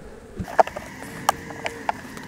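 Honeybees buzz around an open hive box during a spring brood box rotation, several insects zipping close past in short bursts over a quiet background.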